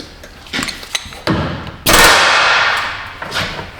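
Hammer strikes on a bolt while a rear coil spring is removed from a Honda Odyssey, several sharp metallic thuds, the last one loudest and ringing out, close and alone with no talk.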